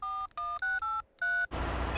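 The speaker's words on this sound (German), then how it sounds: "Ich rufe den nächsten Rettungsdienst." A cartoon telephone being dialed: six quick touch-tone beeps in an uneven rhythm, clean and close, then a burst of hissing noise as the line connects.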